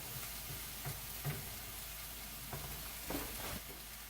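Celery, peppers and onions fry in a pan for chili, a soft, steady sizzle with a few light scrapes and taps of stirring, close but fairly quiet, with no voices.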